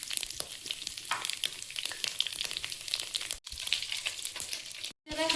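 Chopped garlic fries in hot oil with dried chillies, bay leaf and five-spice seeds, giving a loud, dense, continuous sizzle close by, broken by a couple of brief gaps.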